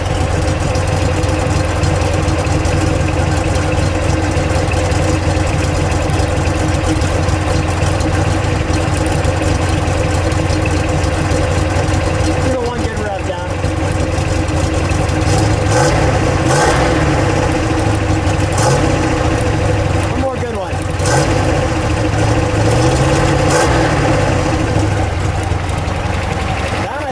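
A 1969 Dodge Coronet R/T with a 426 Hemi and four-speed idles in neutral, a loud, lumpy, continuous rumble up close, with a couple of brief throttle blips partway through.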